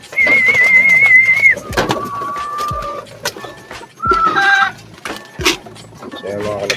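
Racing pigeons arriving at the loft, with soft cooing and fluttering mixed with sharp whistles and clatter, while someone talks nearby.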